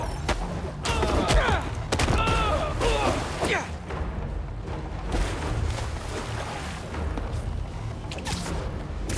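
Gunfire in the video game Spider-Man 2 crackles through a busy action scene, with repeated sharp bursts and crashes over a dense, steady backdrop of game noise and effects, loud and close throughout.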